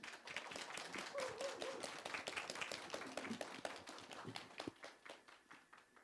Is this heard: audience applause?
yes